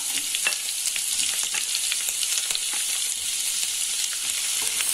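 Potato, ginger, garlic, carrot and onion sauté for egg curry, giving a steady, close, bright sizzle with scattered crackles and occasional stirring scrapes throughout, no voices.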